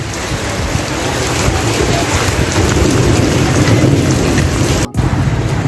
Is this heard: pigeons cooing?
no